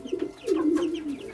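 Pigeons cooing in a pigeon room at home, a few soft throaty low coos close to the microphone in quick succession, with no talk.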